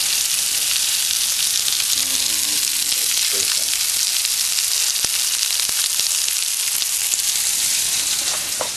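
Steady, crackling sizzle of meatballs browning in a hot frying pan, continuous and fairly loud, with occasional faint utensil clinks and no talking.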